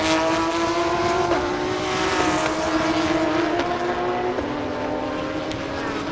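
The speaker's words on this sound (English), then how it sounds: "Here comes another Porsche" A Porsche race car in a Thailand Super Series race roars steadily, its high engine note shifting pitch in stepped gear changes as it passes, with constant loud racing noise throughout.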